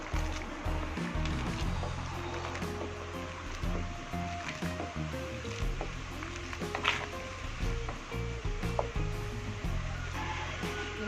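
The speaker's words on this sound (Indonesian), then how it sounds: "Ini sudah mendidih ataupun sudah matang" A pot of coconut milk agar mixture bubbles and burbles steadily at close range, a continuous churning boil with faint sizzling underneath, with no voices.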